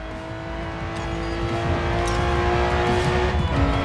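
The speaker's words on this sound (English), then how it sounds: "the engine sound of the Diablo makes it feel like you are driving a sports car" Diablo sports car engine in a racing video game, holding a loud, steady, buzzing roar that builds slightly with revving and faint tire squeal, heard alone for a few seconds.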